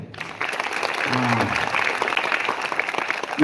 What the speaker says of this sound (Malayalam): കൈയടിച്ചേ.